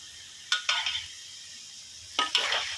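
Vegetables with celery and soy sauce being stir-fried in a pan: two pairs of scraping, sizzling stirs stand out over a steady low frying hiss, close and fairly loud.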